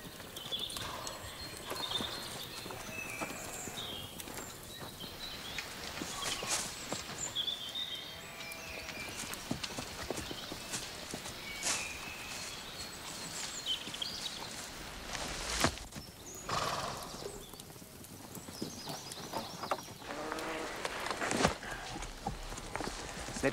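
Horses' hooves clip-clop steadily across hard ground, several animals moving together, with occasional louder clatters and brief background voices.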